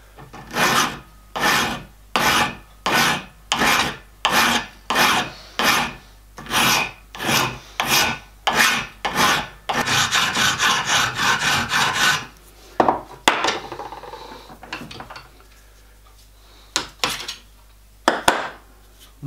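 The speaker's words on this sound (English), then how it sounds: "Give it a file." Filing strokes on a metal smoke box part for a model steam locomotive, about a dozen regular rasping strokes, then a longer continuous burst of rubbing and a few scattered scrapes, close and fairly loud with no talk.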